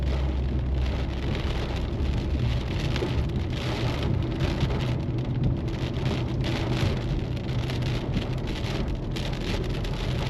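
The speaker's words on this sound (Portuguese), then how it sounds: "Pelo menos agora tá vindo a chuva." Heavy rain pours steadily during a storm in Brazil, a dense, continuous hiss of drops drumming on surfaces, loud and unbroken for the whole stretch, with a low rumble underneath and no talking.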